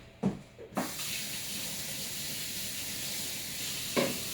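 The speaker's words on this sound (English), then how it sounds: "I'm going to wash my hands up" Tap water runs steadily into a sink for hand washing in a home kitchen, preceded by a couple of knocks and clunks as the faucet is turned on, with another soft knock near the end.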